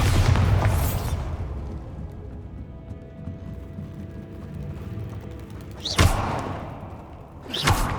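Bombarda spell blasts in Hogwarts Legacy: a heavy booming explosion at the start, then two more sharp bursts near the end, separated by a quieter low rumble with no talking.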